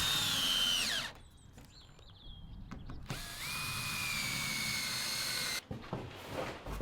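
A cordless drill drives screws into OSB sheets on a garden room roof, two long, loud whirring runs with rising pitch separated by a pause filled with clicks and handling knocks, with a short burst at the end.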